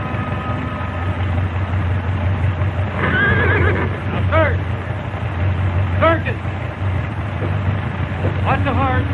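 A horse whinnies several times in rising, shaky neighs, close by, over a low engine rumble with some voices nearby.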